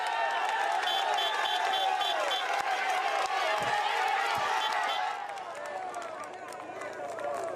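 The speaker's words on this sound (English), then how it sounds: "The crowd is in a frenzy" Roadside crowd roaring and cheering near the final kilometre of a mountain stage finish in the 2012 Tour de France at Bagnères-de-Luchon, a dense continuous din that eases slightly toward the end, with a commentator talking over it.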